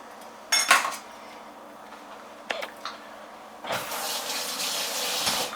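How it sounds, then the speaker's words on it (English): A spoon clinks against dishes, then is rinsed under a running tap while making tom yum soup, the water gushing steadily and close for the last couple of seconds, with no talk. "Rinse off that spoon."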